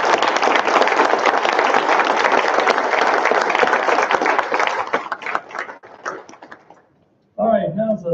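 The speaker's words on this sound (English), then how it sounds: "please give them a round of applause." A graduation brunch crowd applauds with steady, dense clapping that gradually thins out and fades, followed by a voice beginning to speak.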